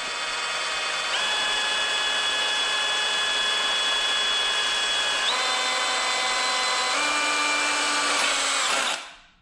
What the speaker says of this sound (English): So now I have half of the hole drilled